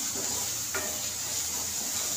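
Chopped onion and turmeric frying in a pan for a simple Marathi potato bhaji, a steady close sizzle and hiss with a single faint clink of a utensil.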